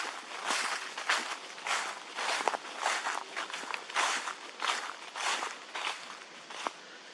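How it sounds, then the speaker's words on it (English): Steady footsteps crunching and rustling through dry fallen leaves on a woodland hiking trail in York County, Pennsylvania, a regular walking rhythm close by with no talking. "when there are a lot of leaves on the ground, you're going to make a lot of noise as you're walking"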